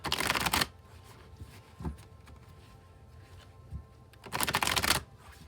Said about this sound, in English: Now we'll shuffle till the deck feels ready, and then we'll cut and deal right off the top